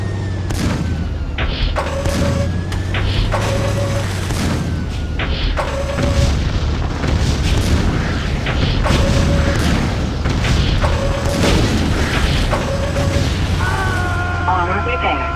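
Missile explosions in the 1999 video game Recoil: a dense, loud barrage of booms and blasts rolling over a constant engine rumble, punctuated by short repeating electronic beeps.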